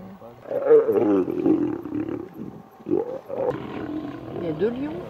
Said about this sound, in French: Dans la nuit australe, 2 à 3 lions mâles s'en prennent à 5 ou 6 lionnes pour une raison inconnue et inhabituelle